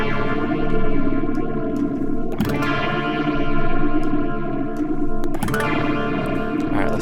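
Electric guitar through an Axe FX 3 phaser effect, sustained distorted notes with sweeping, swirling tone and re-struck chords about every three seconds, loud and alone.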